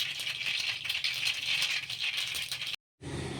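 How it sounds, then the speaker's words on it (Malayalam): Mustard seeds spluttering and popping in hot oil in a home kitchen, a dense, steady crackle heard close and alone for nearly three seconds, cutting off abruptly before resuming briefly. "എണ്ണ നന്നായിട്ട് ചൂടായ ശേഷം അതിലേക്ക് കടുക് ഇട്ട് കൊടുക്കുക."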